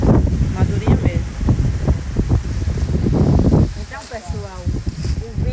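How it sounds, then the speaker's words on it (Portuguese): Strong wind buffets the microphone outdoors during a tilapia fishing trip, making a loud, continuous low roar that lasts the whole time. "Tá ventando demais."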